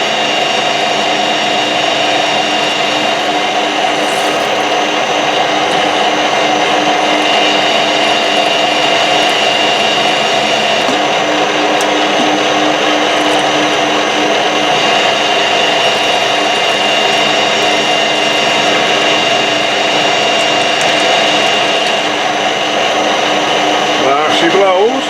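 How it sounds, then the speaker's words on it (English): A drill bores into tough old metal while making an ER32 collet holder, giving a loud, steady mechanical whine and grind that runs unbroken for the whole stretch. "Actually quite pleasantly surprised it's drilling it this well."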